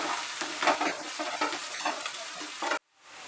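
Chopped ginger and garlic fry with onions over medium heat, a dense crackling sizzle broken by repeated stirring scrapes, close and loud, before cutting abruptly to near silence at the end.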